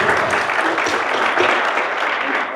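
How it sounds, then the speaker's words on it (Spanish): Audience applause at an urban mobility seminar, a steady wash of clapping from a room full of people lasting a couple of seconds. "Un aplauso, por favor"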